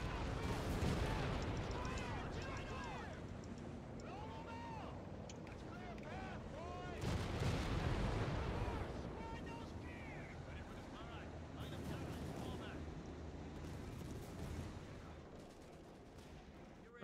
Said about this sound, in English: This guy's hitting all kinds of mines.